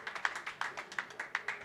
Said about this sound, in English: Crowd goes wild here at Samstown Bowling Center